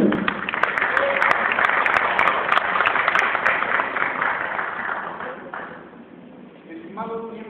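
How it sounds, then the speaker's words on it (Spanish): Audience applause for an oratory contest champion from Tlaxcala, a dense steady clapping that fills most of the clip with voices over it, thinning toward the end as a speaker begins. "Fuerte el aplauso para él"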